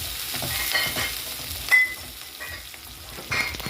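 Onion softening in a pan for a spiced pea, potato and cabbage dry vegetable dish, a faint steady sizzle with occasional stirring scrapes, close and quiet.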